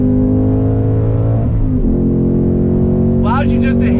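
A 2021 Ford Mustang Mach 1 accelerating hard under throttle, its loud V8 roar rising steadily in pitch from inside the cabin, with a voice exclaiming near the end.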